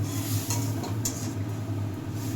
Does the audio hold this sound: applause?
no